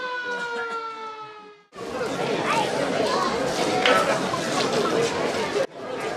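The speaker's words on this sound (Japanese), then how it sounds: "午後8時サイレンを鳴らして日の神祭りの開始を知らせます。" A siren sounds to announce the 8 pm start of the Hi-no-Kami festival, a nighttime fire battle between pirates and fishermen. Its steady, slightly falling wail cuts off, and loud crowd chatter and bustle follow.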